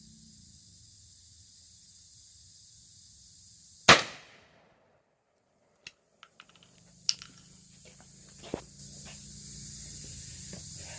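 A single loud, sharp 20 gauge shotgun blast fired outdoors with Aguila #2 buckshot, followed by a quick decay into near silence, then scattered small clicks and knocks.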